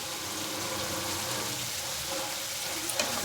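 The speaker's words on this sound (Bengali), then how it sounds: "এবার মশলা ধোয়া জলটা দিয়ে আমরা একটু ভালো করে মশলাটা কষিয়ে নেব" Spices for pabda fish curry sizzle steadily in hot oil after the spice-soaked water goes into the pan, a soft, continuous frying hiss at moderate distance, with a faint clink near the end.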